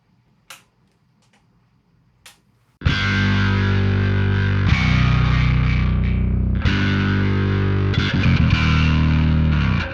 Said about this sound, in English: I also really love doing the wet-dry octave effect with heavy distortion